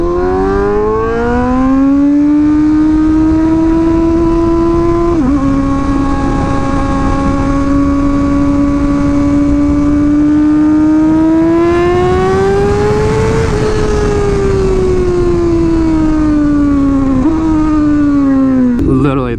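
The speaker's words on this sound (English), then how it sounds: "The way this bike like just winds up and sounds" A superbike engine revs loudly and close, its pitch climbing and dropping through several gear-like steps in one sustained, strident wail with no talking over it.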